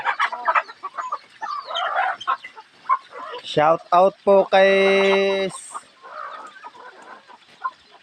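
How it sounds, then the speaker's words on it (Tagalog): Chickens cluck close by, then a long, loud crow rings out, with people talking intermittently before and after. "ito na lang po yung natitirang alaga nating manok at bibe"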